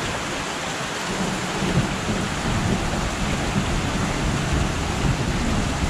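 Steady heavy rain falls in the Sacramento Mountains near Cloudcroft, New Mexico, a loud dense wash with low rumbling thunder rolling underneath throughout.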